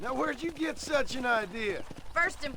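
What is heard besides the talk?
No distinct noise like a dog, phone or traffic.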